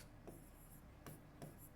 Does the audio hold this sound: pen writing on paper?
yes